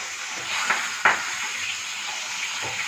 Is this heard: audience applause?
no